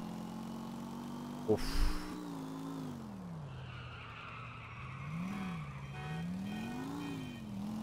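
In the video game GTA 4, a heavy motorcycle engine hums at a steady pitch that rises and falls with the throttle, with a short skid or impact sound early on, at low volume.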